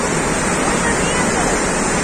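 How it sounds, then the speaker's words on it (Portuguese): Constant broadband roar of the Véu das Noivas waterfall at Poços de Caldas, loud and steady throughout with no variation. "nós estamos aqui em Véu das Noivas, uma cachoeira."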